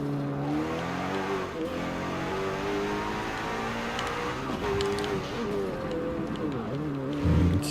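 A McLaren engine hums steadily and then revs as the car drives in Forza Motorsport 7 during a drift session, fairly loud throughout, with tire noise and a voice talking over it.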